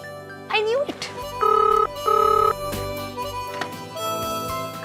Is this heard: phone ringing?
yes